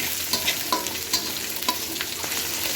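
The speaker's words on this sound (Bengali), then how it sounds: "পেঁয়াজ কুচি, দিয়ে ভালো করে নেড়ে নেব।" Chopped onion fries in a pan with a steady sizzle while a spoon stirs it, giving a few soft scrapes and taps up close, with no talking.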